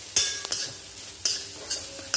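Grated coconut sautés in a little ghee in a pan with a faint sizzle. A spoon scrapes and stirs in a few sharp, separate strokes. No one speaks.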